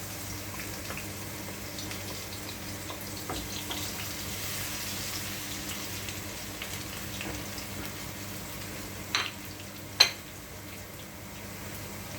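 Ginger and garlic fry in a hot pan with a soft, steady sizzle and hiss throughout, and a couple of sharp utensil clinks come near the end.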